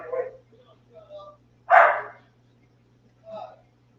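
A pet dog indoors barks at dogs being walked past the window, giving a few separate sharp barks and yips with quiet gaps between them, mixed with a person's speech.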